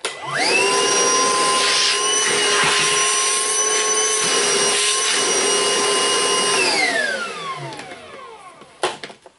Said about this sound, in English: Your vacuum. You have a few more attachments.